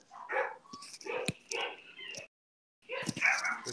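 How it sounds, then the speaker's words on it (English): Neighbor's dogs bark and yip in short, irregular bursts, fairly loud and close, pausing briefly before another volley, with no talking. "Sorry, the neighbor's dogs."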